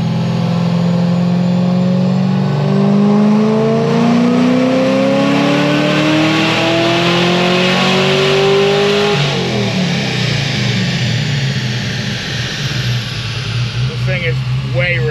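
A supercharged C6 Corvette engine revs loudly and up close, its pitch climbing steadily then dropping as it settles, with people talking over it.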